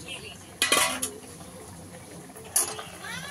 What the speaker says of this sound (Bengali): ঝোলটা ফুটছে, আমি এই মাছগুলো এখন দিয়ে দেবো